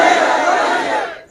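A large crowd at an outdoor religious gathering in Panj Pir, Swabi, Khyber Pakhtunkhwa roars a slogan in unison, loud and close, with the shout fading out at the end.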